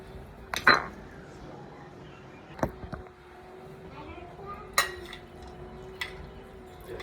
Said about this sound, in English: Then mix it up.